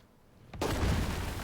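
A single artillery blast in the video game Headquarters: World War II, a sharp crack followed by a heavy rumbling boom that lingers close and loud.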